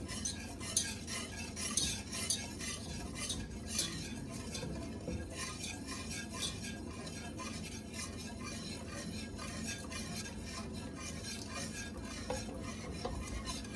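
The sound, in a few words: whisking cheddar-beer sauce mixture in a pot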